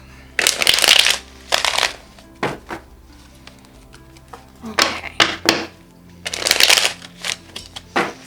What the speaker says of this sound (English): I feel like I need to do a couple more shuffles here